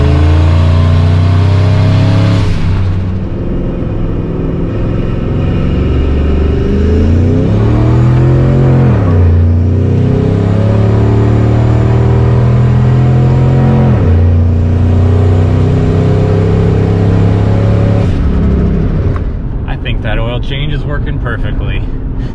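A stock Ford Triton 5.4 V8 running 13 psi of boost, with a suspected blown head gasket, revs loudly and up close in several long pulls that rise and fall, then drops back to idle.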